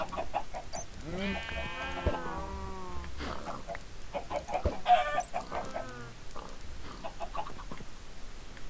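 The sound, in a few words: chickens clucking in Minecraft video game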